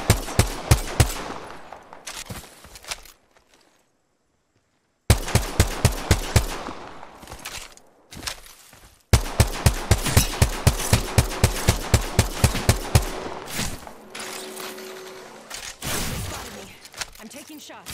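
Rapid automatic gunfire in the video game Apex Legends, long rhythmic bursts of close, loud shots broken by a brief silence, with occasional speech.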